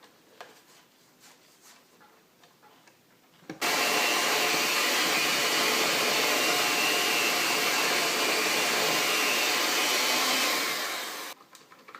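An electric mixer blends unsweetened cocoa into marble bundt cake batter, switching on after a few quiet seconds with a loud, steady whirring roar that holds evenly for about eight seconds before cutting off.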